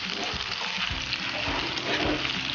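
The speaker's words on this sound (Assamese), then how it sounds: "আপোনালোকে এনেদৰে লৰাই ল'ব তেলখিনি ধুনীয়াকৈ" Oil sizzles steadily in a pan as elephant fruit pieces for pickle are stirred through it, a continuous frying hiss broken by soft, regular scraping strokes of the spoon.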